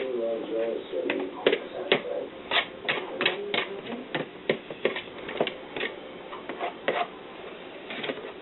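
A knife taps repeatedly against a cutting board as a baked potato is cut up, producing a quick, uneven series of crisp clicks close by, with a voice talking faintly underneath.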